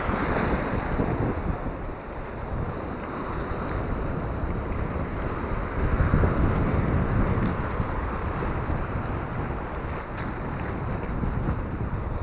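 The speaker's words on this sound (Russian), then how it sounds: "Разлетаются волны. Да еще камни их сдерживают, эти волны." Sea waves break against stones on a beach at Stepanovka, a continuous rough wash of surf rumbling steadily with wind buffeting the microphone.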